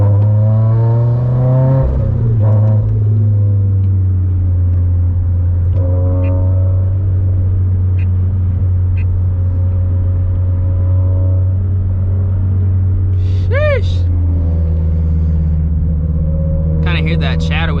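Turbocharged Toyota GT86 engine fitted with a lightweight flywheel, a steady low drone while cruising with brief revs and rattly chatter, heard from inside the car as people talk over it.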